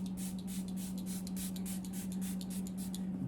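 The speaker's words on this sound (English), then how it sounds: "So I'm gonna spray a little bit more of this" Quick bursts from a pump spray bottle of setting spray misted onto a face hiss in a fast, regular series of short puffs over a steady low hum.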